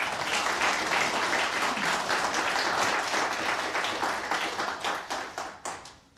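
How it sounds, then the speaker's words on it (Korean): A debate audience at a 2017 Korea Broadcasting Journalists Club event applauds to welcome presidential candidate Yoo Seong-min, a dense, even round of clapping that thins and fades out toward the end. "유승민 후보 큰 박수로 맞이해 주시기 바랍니다."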